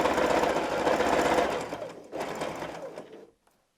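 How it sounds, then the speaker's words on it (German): A sewing machine stitching zigzag around a quilted cushion cover, a rapid close mechanical whir that runs, pauses briefly, resumes and then stops. "Unsere Maschine ist wieder umgebaut und wir nähen mit einem Füßchen breitem Abstand."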